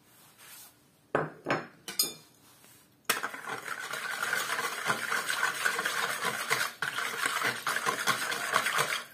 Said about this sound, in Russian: Все хорошенечко размешиваем